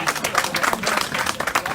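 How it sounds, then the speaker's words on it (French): An audience claps and applauds at a diner burger event, a dense, steady patter of hands at close range with voices mixed in. "Personne n'a la pancarte d'applaudissement."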